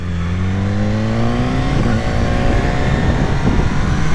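A BMW S1000R motorcycle engine runs loud and close, its revs climbing steadily and then dropping off as it shifts around the middle, before the engine note carries on rough and busy.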